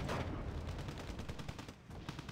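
A Wargame: Red Dragon battle fills with a steady spatter of distant gunfire and rolling small-arms volleys, dense and moderately faint, with no voices over it.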